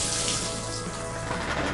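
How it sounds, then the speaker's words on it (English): Liquid wetting agent poured into a black-and-white film developing tank at home, a steady close splashing pour that runs unbroken from start to finish with no talk. "I just top up the tank, pour it in, give it 5 inversions,"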